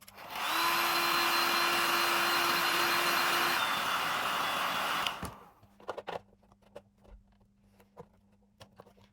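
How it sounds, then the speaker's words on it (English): A heat gun blows a loud, steady, whooshing stream of hot air onto a BMW E46 headlight for about five seconds, then cuts off, leaving scattered light clicks and handling taps. "Now we need a heat gun. So we heat this."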